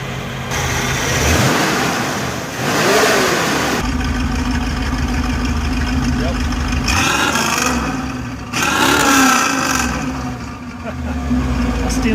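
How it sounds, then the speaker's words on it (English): A 1967 Camaro RS SS engine idles and then revs up in several strong swells through a stainless exhaust, loud and close, with a voice talking over it. "Stainless exhaust sounds nice."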